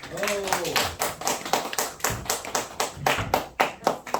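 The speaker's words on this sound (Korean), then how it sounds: "나오실 때 박수 한번 합시다." A group claps in a steady rhythm, sharp distinct claps close by and evenly spaced at about three per second, with a brief voice at the start.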